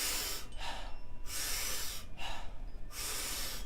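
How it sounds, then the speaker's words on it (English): Rhythmic power breathing during a yoga class comes in repeated cycles of big, forceful inhales alternating with softer exhales, close and breathy, about four breaths with short gaps between them. "It's a big power breath, soft exhale."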